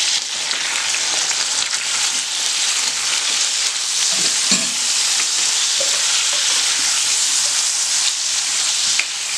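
Brinjal pieces with turmeric and salt sizzle loudly in a pan, a thick, continuous crackling hiss with occasional soft knocks as they are stirred, with no talking.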